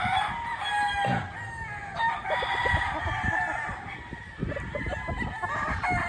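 A white rooster at a gamefarm crows nearby, one drawn-out cock-a-doodle-doo rising above a busy background of other fowl clucking and calling.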